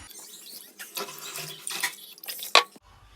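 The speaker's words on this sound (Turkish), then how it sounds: "3 bardak da su koyuyorum." Water poured into a pot to make sugar syrup for a Turkish semolina-free kalburabastı dessert, a few soft splashing bursts of running water at close range, with a brief sharper clink near the end.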